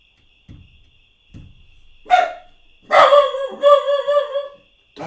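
A dog barks a few times nearby, a sharp bark followed by a louder burst of yelping barks, with a faint steady hum in the background.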